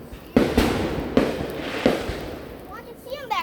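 Phantom Fireworks bang snaps and small fireworks go off outdoors at a July 4th celebration, giving three sharp, loud cracks spaced about a second apart, each with a short crackling tail, followed by faint voices.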